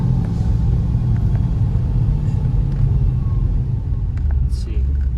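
A Mercedes E55 AMG accelerating hard from a standstill toward 60 mph, a steady loud low engine rumble with road noise heard from inside the car, no talking.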